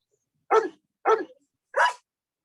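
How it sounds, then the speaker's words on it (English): Three sharp dog barks, spaced about half a second apart, loud and close with silence between them. "I heard a dog barking."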